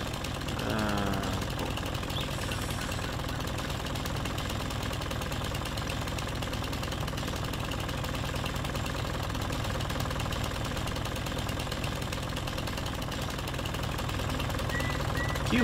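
A chainsaw runs steadily in Farming Simulator 19, a constant buzzing, knocking engine drone that holds at one level for the whole stretch with a brief higher whine near the start.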